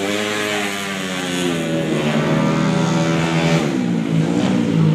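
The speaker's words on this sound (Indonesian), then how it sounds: "Motor Honda Beat ya." A Honda Beat motorcycle engine revs steadily on a road race practice track at a sports center, its harmonic whine climbing and dipping through several throttle blips over a continuous loud drone, with no talking.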